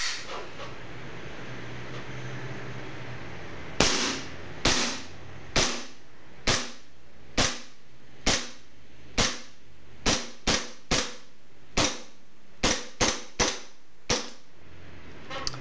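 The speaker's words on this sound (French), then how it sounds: "je vais à présent vous montrer le tir au niveau de la réplique" A KJW P226 gas airsoft replica pistol fires BBs in a series of about fifteen sharp, close pops, evenly spaced at first and then coming in quicker pairs, over faint background hiss.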